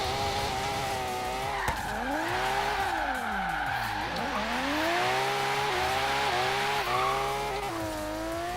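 A four-wheel drive car in the Forza Horizon 3 video game skids with loud tire squeal as its engine rises and falls in pitch, a continuous close drone of sliding and revving.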